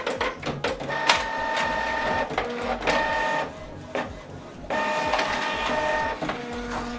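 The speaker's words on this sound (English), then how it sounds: "This is the document we printed out, single page." A printer runs through a single-page print job from a laptop, with busy mechanical whirring, rattling feed clicks and steady motor drone that pause briefly before resuming, close and fairly loud with no talk.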